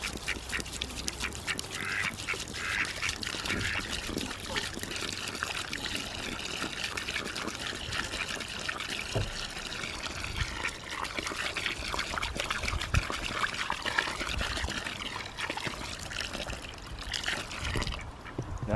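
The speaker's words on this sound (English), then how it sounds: "Ready for some water? You gotta wait till I pour it in." Water trickles and splashes as it is poured out for a flock of noisy farm ducks, with steady quacking and chatter running through the whole stretch over outdoor homestead ambience.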